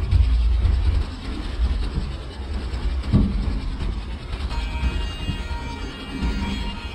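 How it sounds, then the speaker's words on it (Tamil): An oncoming express train rumbles past in Microsoft Train Simulator, a heavy low roar with rhythmic wheel clatter over rail joints, close and steady throughout. "முன்னால் ஒரு ட்ரெயின் வந்துட்டுருக்கு"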